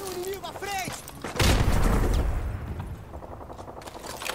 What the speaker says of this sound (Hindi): अरे बम फेंक दिया अंदर भाग भाग भाग भाग